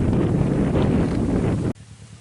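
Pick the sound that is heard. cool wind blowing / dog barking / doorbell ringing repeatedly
cool wind blowing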